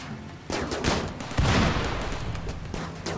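Colonists firing guns during a raid in Rimworld, a cluster of crackling shots and bursts overlapping into a loud, busy fusillade lasting a few seconds.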